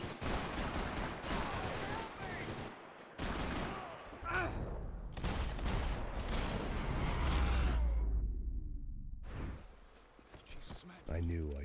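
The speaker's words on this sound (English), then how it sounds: "Oh shit. Those shots." Bursts of gunshots in Max Payne 3, loud, close volleys separated by short pauses, followed by a quieter stretch with a low rumble and a voice speaking near the end.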